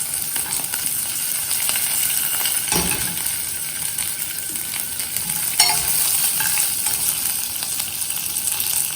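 Strong tempering spices sizzle and crackle steadily in hot oil for raw mango kadhi, with occasional metallic spoon scrapes and clinks as they are stirred, close and continuous.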